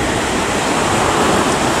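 Steady rushing surf at Cha-Am beach in Thailand, a dense, loud wash of breaking sea waves with breeze, unbroken and without talk.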